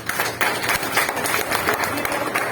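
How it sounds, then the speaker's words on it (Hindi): An audience at an RCM meeting in Shamshabad claps steadily, a dense patter of applause from many hands that holds at an even level throughout. "रेणुका मैडम के लिए एक बार जोरदार तालियां।"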